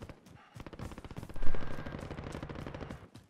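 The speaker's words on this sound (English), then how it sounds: "You getting shot at?" Gunfire in the battle royale game Call of Duty Warzone (Modern Warfare), as sustained rapid automatic bursts that swell loud in the middle and then taper off. The shots form a dense, crackling stream with no talking over them.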